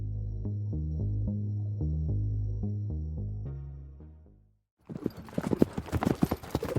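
Hooves clip-clop in a steady, loud, close rhythm for about four seconds as an audiobook sound effect, then fade out and give way to a burst of noisy crackling.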